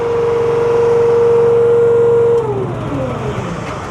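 The engine of a 17 VS log splitter drones loudly and steadily nearby, then is shut off and its tone drops and winds down over the final second or so.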